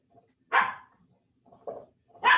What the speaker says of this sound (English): Sorry, my dog's losing it.